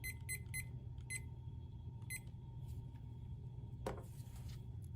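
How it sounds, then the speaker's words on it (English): A lab timer alarm sounds in quick bursts of high electronic beeps, repeating in short clusters over a low steady hum, followed by a single soft thump. "the timer just went off"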